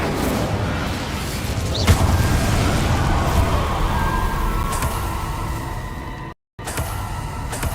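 A fiery Incendio spell cast in Hogwarts Legacy, a sustained roaring, crackling whoosh of flame layered over dense combat noise, briefly cutting out near the end.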